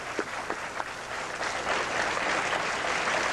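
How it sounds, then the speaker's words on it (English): Tournament crowd at a bowling event applauds a young bowler, dense steady clapping from many hands throughout, with a few sharper claps early on. "Kent Wagner, I think he deserves a fine round of applause."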